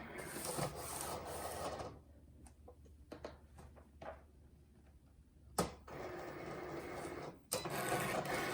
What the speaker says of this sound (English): we're ready to put this into the Cricut machine